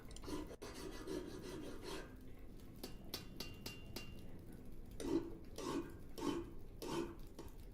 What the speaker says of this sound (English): Head back into the forge and make the knife.